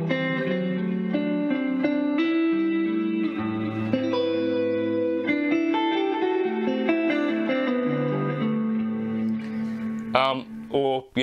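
Electric guitar played loud through a Boss Katana amplifier, a sustained run of chords and notes with effects and reverb, steady and close, ending in a few choppy bursts.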